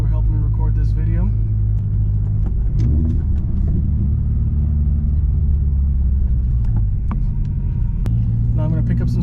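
A manual-transmission car's engine drones low and steady while driving at about 25 mph and 2,000 rpm, with a brief dip around a gear change, heard from inside the cabin beneath someone speaking.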